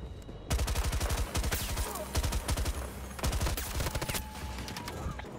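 Sustained bursts of automatic fire from an RPK light machine gun in Battlefield 2042, loud and close, coming in rapid rhythmic volleys with brief pauses between them over a busy battlefield background.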